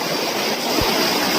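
Water pours steadily at the small Pha Daeng waterfall at a campsite, a close, dense broadband rush that fills the whole clip without a break.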